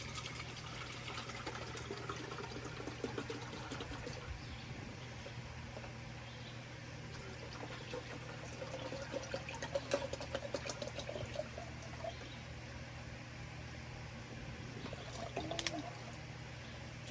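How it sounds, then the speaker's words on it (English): Water running steadily into a coffee pot for a campfire brew, a continuous low pour and trickle at moderate distance with no voices, lasting throughout. "You fill the pot up with water."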